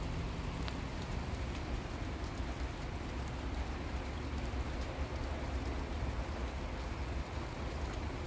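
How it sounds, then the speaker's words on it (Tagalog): Light drizzle falls on a gloomy, overcast day, a steady soft patter and hiss of rain on surfaces that continues evenly throughout without any voices. "Maambon-ambon na ganyan lang. Basang ulan."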